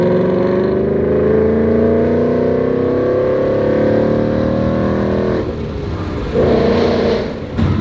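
A 2023 Nissan Z engine revs hard, its pitch climbing steadily across several seconds, then drops off and briefly surges again, loud and close from inside the car with no talking.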